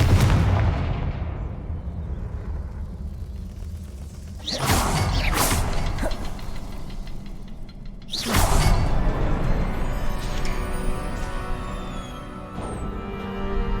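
In the video game Hogwarts Legacy, a Confringo fire spell goes off in two sharp explosive blasts several seconds apart, each one trailing off into a rumbling decay over a low background of game ambience.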